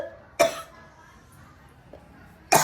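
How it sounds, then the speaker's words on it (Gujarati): An older man coughing, two sharp, close coughs separated by a quiet pause, with a faint throat sound between them. "વ્લોગ બનાવતો બનાવતો ઉધરસ થઈ ગઈ"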